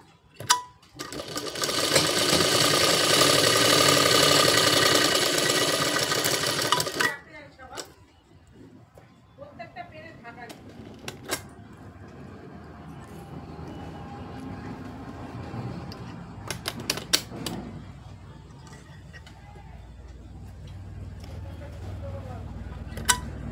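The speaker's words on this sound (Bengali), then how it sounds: "তো আমি এটাকে সেলাই করে নিচ্ছি।" A sewing machine stitching a blouse runs steadily and loudly for about seven seconds, then stops, followed by scattered clicks, handling and fabric rustle while someone talks in the background.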